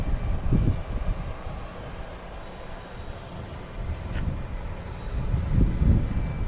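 Jet airliner engines roaring during takeoff at Boston Logan Airport, a broad continuous rumble that swells and fades as planes pass, heard from a distance outdoors without talk.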